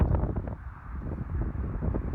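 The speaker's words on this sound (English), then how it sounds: "sorry for the audio, but as you can tell, over here it's pretty windy." Gusty wind buffets the microphone continuously at a roadside viewpoint, producing a dense, muffled low roar that rises and falls slightly.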